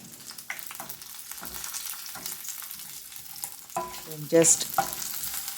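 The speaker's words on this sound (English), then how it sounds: "saute everything with a little oil." Garlic pods, tamarind and ridge gourd peel sauté in a little oil, giving a quiet sizzle broken by occasional spoon scrapes and a louder stirring clatter near the end, with a few spoken words.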